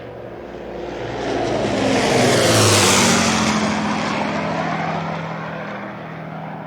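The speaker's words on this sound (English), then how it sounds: "putting you inside a Lancaster bomber as it navigates a most dangerous journey" Roar of a Lancaster bomber's engines in a WW2 virtual reality flight game, a broad steady drone that swells to a peak midway and then eases off slightly, with no voices over it.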